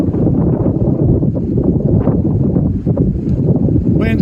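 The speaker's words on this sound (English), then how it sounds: "Wind's really, really ripping here." Strong wind south of Anchorage buffets the microphone in a loud, continuous low roar that rumbles and gusts without pause for the whole span.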